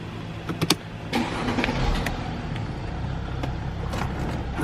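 A 2012 Mercedes GL 350 W166 is started after a steering angle sensor replacement: a few short clicks, then a cranking surge that settles into a low, steady idle hum.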